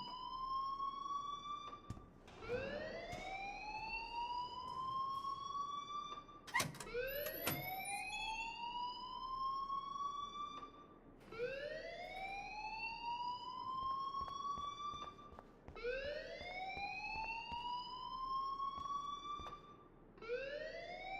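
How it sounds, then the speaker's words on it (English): Repeating electronic alarm sounding inside a school building in the game Life is Strange: loud rising whoop tones cycling about every four seconds, steady and insistent, with no voices. "please turn off that alarm since that's your job"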